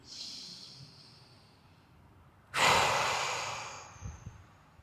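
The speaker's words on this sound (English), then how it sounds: "Take a deep breath." A slow deep breath during a post-workout stretch, a soft drawn-in inhale followed by a louder, long airy exhale that fades out, close and alone.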